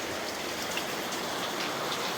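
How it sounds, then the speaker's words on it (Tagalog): Heavy rain pours steadily, a dense, loud hiss of drops hitting surfaces without pause. "Malakas yung ulan ngayon guys."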